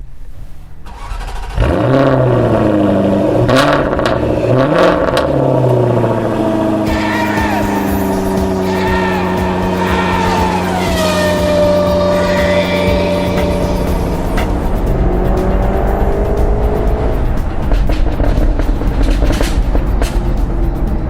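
A car engine starts and revs hard, rising and falling through long sweeping pulls with popping and crackling from the exhaust, loud and close throughout.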